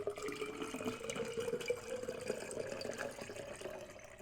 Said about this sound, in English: So first you'll pour the water into your container.